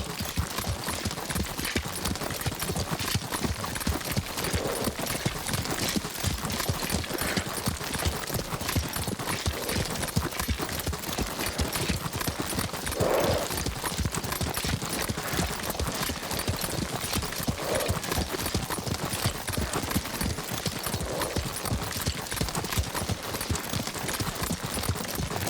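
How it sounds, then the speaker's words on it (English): Horse hooves gallop in the Ghost of Tsushima video game, a rapid, steady, continuous clip-clop rhythm throughout, moderately loud with faint background ambience. "Lord Sakai taught me to ride a horse."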